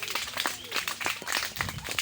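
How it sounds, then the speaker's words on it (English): Audience clapping for debate speakers at a debate club inauguration, a short burst of fairly faint, scattered applause. "A round of applause for them"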